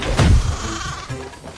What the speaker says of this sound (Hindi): तभी एक बकरी भागती हुई आई